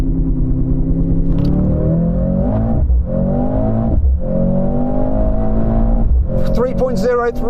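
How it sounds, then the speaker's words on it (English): Mercedes-AMG C63 saloon with a hybrid four-cylinder engine accelerating from 0 to 60, its loud nearby engine climbing in pitch through each gear before dropping briefly at each of several quick gear changes. "This hybrid 4-cylinder sounds absolutely rubbish compared with the old car's"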